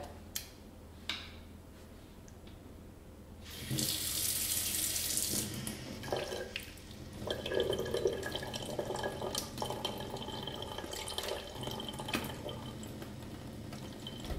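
Warm tap water runs from a faucet to rinse an e-cigarette burner, starting after a quiet stretch with a few small clicks, a steady hiss of flow that shifts as the part is moved under the stream.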